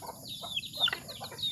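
Wild labuyo junglefowl give short, sharp clucks and chirps in quick bursts, fairly close, over a quiet background.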